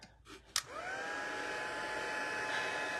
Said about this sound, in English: and bring in my heat tool